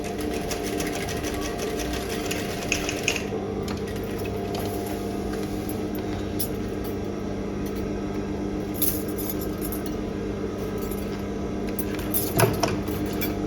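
Sewing machine stitching a crisscross pattern on a faux leather bag strap, a close continuous mechanical whirring hum with a steady rapid needle chatter and a few small clicks, no talking.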